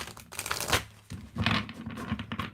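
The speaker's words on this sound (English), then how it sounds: "Get one more shuffle in." Tarot cards are shuffled by hand in several quick bursts of riffling and crisp flicking, close and fairly loud, separated by brief pauses.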